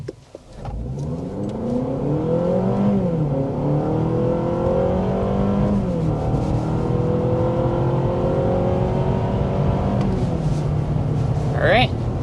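A 2026 Honda CR-V two-motor hybrid accelerates hard from inside the cabin, its engine drone rising steadily in pitch through several stepped climbs over about ten seconds, with a person speaking over it.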